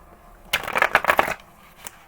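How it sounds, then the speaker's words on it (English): A deck of cards is shuffled in one brisk riffle of about a second, crisp fluttering clicks up close in a quiet room, with a faint tap afterward. "Give me 3 good shuffles, please."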